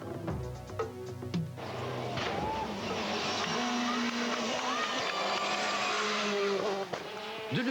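A Peugeot World Rally Car on a Tour de Corse special stage in 1999, engine revving and shifting up as it passes near, then a sustained high-revving drone with tire squeal and gear changes, loud and continuous.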